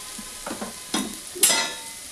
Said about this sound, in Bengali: এই দিয়ে আমি নাড়াচাড়া করে নেব